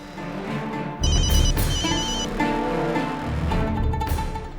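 An incoming call's ringtone plays in repeated electronic chime patterns over dramatic background music, fairly loud and close, continuous throughout.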